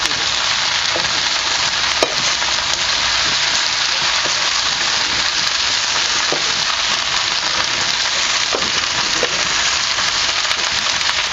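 Chopped onion greens sautéing in a pan, a steady close sizzle and crackle of frying with occasional soft stirring taps, no voices.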